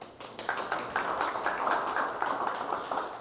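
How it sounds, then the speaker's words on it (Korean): Audience applause for a speaker at a Chuncheon kickoff lecture event, a short burst of many hands clapping at moderate distance, steady and dense for a few seconds. "다시 한번 저기 소장님께 박수 한번 부탁드리고"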